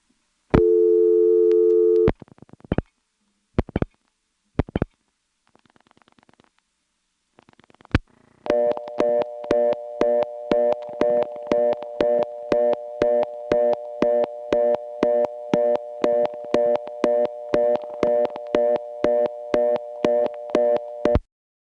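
A vacant code tone from a 1977 senderized XY step telephone exchange in Lexington, South Carolina: a few dial clicks and a short tone, then a rich, steady interrupted tone pulsing in a fast, even rhythm.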